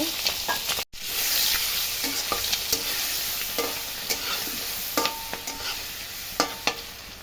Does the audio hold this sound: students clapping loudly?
no